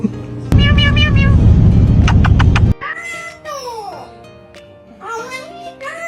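A cat meows back and forth with a parrot. Several short, rising and falling tonal calls trade off close by, after an opening stretch of loud, dense noise.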